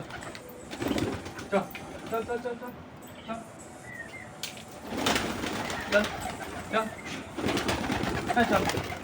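Domestic pet pigeons coo softly nearby around their bathing spot, interrupted by wing flutters, while a person repeatedly calls out over the birds.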